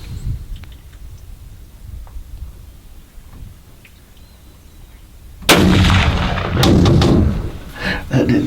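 A single loud rifle gunshot while deer hunting in Texas booms out after several seconds of quiet outdoor ambience, followed by a lingering rumbling echo and some handling noise.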